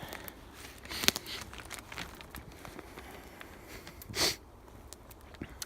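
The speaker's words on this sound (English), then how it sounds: "Pardon the sniffing." Quiet, intermittent sniffs close to the microphone, with one sharp snuffle near the start and a louder breathy sniff toward the end.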